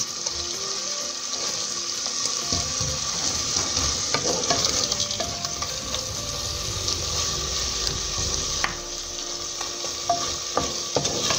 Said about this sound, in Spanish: Y seguimos dorando y dejando que cocine bien estos ajíes.